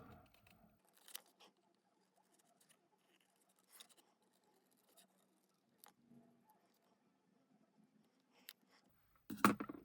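Scissors snip through paper while a soccer club logo is cut out, a few faint, sparse snips and rustles scattered over quiet, ending with a louder handling clatter.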